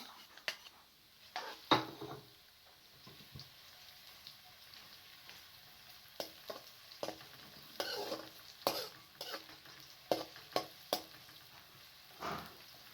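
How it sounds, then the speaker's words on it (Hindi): Garlic and onion sizzle softly in oil, punctuated by scraping and clinking of a spoon stirring the pan, with occasional quiet speech. "दोनों चीज़ों को ऑयल के अंदर तकरीबन 3 से 4 मिनट तक आपने भून लेना है"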